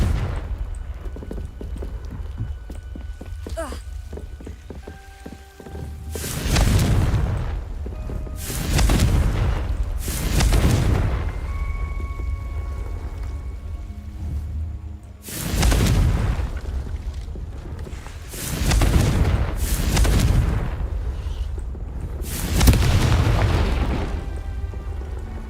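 Confringo spell explosions in a Hogwarts wizarding video game: several loud, deep booming blasts in separate bursts, each with a long rumbling tail, over a steady game ambience.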